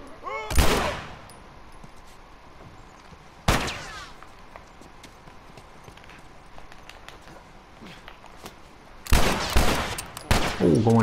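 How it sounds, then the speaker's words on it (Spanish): Gunfire in The Last of Us video game, with three loud sharp bursts of shots separated by long quiet gaps, the last burst a rapid cluster of several shots. "Como le pifié todos los tiros"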